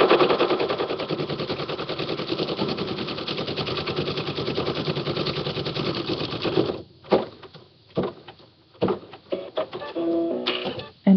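An embroidery machine stitches on paper in a steady, fast mechanical rattle for several seconds, then stops and gives a few short irregular bursts of stitching near and loud, with no talking.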